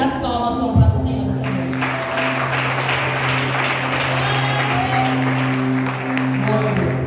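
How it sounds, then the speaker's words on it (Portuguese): Church congregation clapping at a Portuguese-language evangelical service, a steady wash of hand claps with a sustained musical drone underneath and voices mixed in throughout. "E as palmas são para o Senhor."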